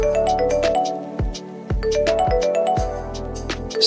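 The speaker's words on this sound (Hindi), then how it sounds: "सचिन का फोन बजा।" A phone rings with a bright, repeating electronic chime, several short melodic bursts in quick succession, loud and close with no talking over it.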